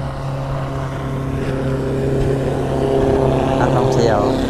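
A tourist slow boat on the river at the Golden Triangle in Laos, its engine giving a steady, droning hum with a strong low tonal whine, close and continuous, while people talk over it.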